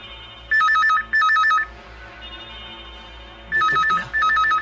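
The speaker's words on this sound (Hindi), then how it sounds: "देख तो बिटिया, किसका फोन है?" A telephone rings in a Hindi horror drama scene, two loud electronic trilling bursts, a pause, then two more, alone over a low background hum.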